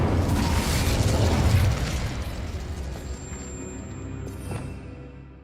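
Spell blasts in the Hogwarts Legacy video game arrive as a loud, booming explosion that rumbles heavily at first and then fades into a long decaying roar, with a faint tonal ring near the end.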